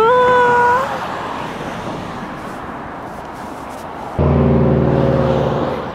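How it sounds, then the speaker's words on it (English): Steady roar of traffic from cars passing on a busy roadway, loud and continuous, with a brief tonal sound at the start and a low droning vehicle hum rising near the end. "the amount of noise from all these cars is just astronomical"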